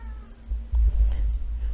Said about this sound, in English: pardon my cat. She likes to make noise the very second